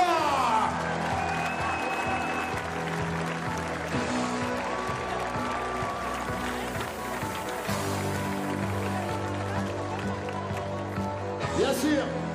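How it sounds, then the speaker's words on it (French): A crowd at the start of the Tiger Balm Ultra trail race applauds a runner with loud, sustained clapping and cheering, layered with music and a busy outdoor hum, and a whoop rising near the end. "Je vous demande de lui faire un tonnerre d'applaudissements"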